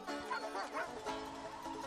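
Dogs bark in a chase scene from the 1987 film Raising Arizona, a quick run of sharp yapping barks and yips close together over busy background sound.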